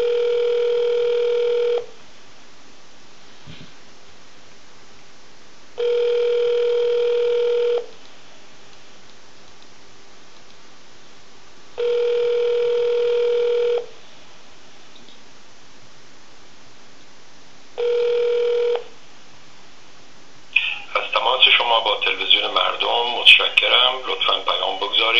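A telephone call being placed to leave a test message: four long, evenly spaced ringback tones sound clearly, then a voice answers at the end.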